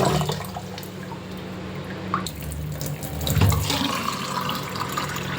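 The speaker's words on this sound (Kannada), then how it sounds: "ಚೆನ್ನಾಗಿ 1-2 ಸತಿ ವಾಶ್ ಮಾಡಿಕೊಂಡು ಅನ್ನಕ್ಕೆ ಇಡ್ತೀನಿ." Tap water runs steadily into a vessel while rice is rinsed, splashing and sloshing close by with a brief louder surge midway and no talking.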